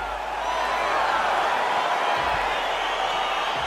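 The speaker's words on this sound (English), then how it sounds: "crowd getting excited as this fight gets underway" Virtual arena crowd in EA Sports UFC 4 before a heavyweight bout, a dense continuous roar of cheering and whooping that swells slightly, with a voice faintly underneath.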